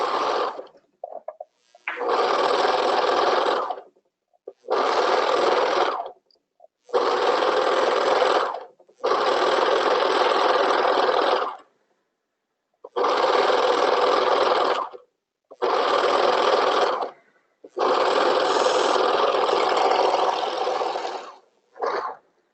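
A serger stitching the leg holes of a tutu, running in eight bursts of a few seconds each with short silent pauses between, close and loud, with no talk.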